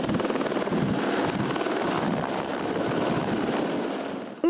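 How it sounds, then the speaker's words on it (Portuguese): Helicopter taking off during a police training exercise that simulated chemical contamination, a loud, steady rotor thrum and engine roar that holds throughout before fading slightly at the end. "Logo depois, supostamente o infectado saiu de helicóptero."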